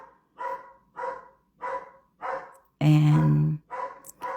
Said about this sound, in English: Bessie is barking